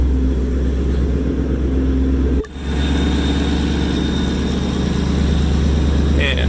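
A 2012 Ford Mustang Roush Stage 3 with a 540 hp supercharged engine idles nearby, a steady deep burbling rumble that briefly dips once before settling back into a constant idle.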